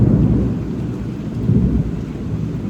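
Loud, close downpour from a summer nor'wester storm with hail roars continuously, with deep rumbling thunder rolling beneath the rain.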